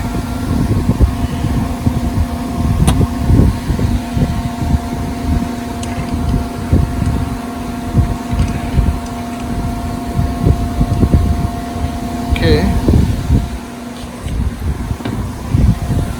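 A large hole is drilled into UHMW plastic with oil on the cut, giving a loud, steady machine hum and low rumbling grind with irregular crunching pulses from the bit, continuous and close.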